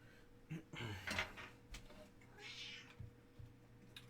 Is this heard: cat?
yes